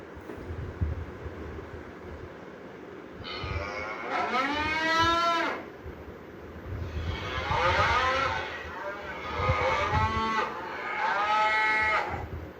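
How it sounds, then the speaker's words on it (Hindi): Recorded cow moos from a digital Bhagavad Gita book with page sensors, several drawn-out moos in a row with faint background noise. "गैया के ऊपर भी अगर हम सीधे से उसको रखेंगे तो गैया का भी आवाज़ वो देगा"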